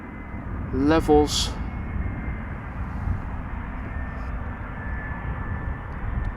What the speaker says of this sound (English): A319 arriving from Southend.